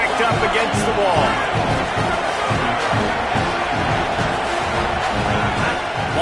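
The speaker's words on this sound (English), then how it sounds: "how nice is it to have the home crowd going absolutely bananas" A home crowd roars loudly and continuously in an NCAA 26 college football game, a dense wall of cheering with rhythmic thumping beneath it, filling the whole stretch while commentators talk over it.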